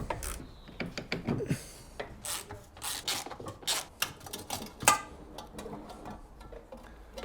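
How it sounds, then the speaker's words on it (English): Ratchet clicking and metallic rubbing while steering rack bolts are undone on a BMW 325i Touring E46, with bursts of ratcheting and tool-on-metal scraping at close range, no talking. "Now we need to unbolt the steering greebo from the steering rack there."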